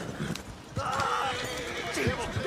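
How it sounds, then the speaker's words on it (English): Horses in the video game Red Dead Redemption 2 collide in a town street, with hooves clopping and a loud neigh rising amid the clatter, close and busy, while people talk over it. "I violently collided with this other guy's horse"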